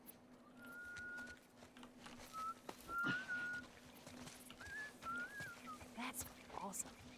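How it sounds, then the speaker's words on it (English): A character whistles in the video game The Last of Us, producing several sustained, rising whistled tones with short gaps between them over game ambience and clicks. "I'm whistling."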